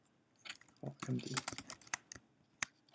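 Close computer keyboard typing gives scattered, uneven key clicks over three seconds, with a voice talking briefly among the keystrokes.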